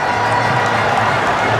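Crowd at a Bradby Shield schoolboy rugby match, Trinity College supporters, roaring and cheering after a try, a broad, steady wash of massed voices held at high level throughout.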